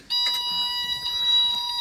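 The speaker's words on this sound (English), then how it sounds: "That is the most annoying buzzer, but it should be. It's an oil pressure buzzer." An oil pressure warning buzzer sounds on a Steiger tractor, a shrill, steady electronic tone that starts abruptly and drones on continuously, close and loud.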